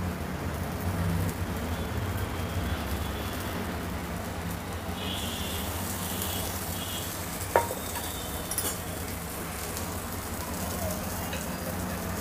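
Cheese taco toasting in butter and garlic on a pan gives a steady, soft sizzle throughout, with one brief clink of a utensil partway through.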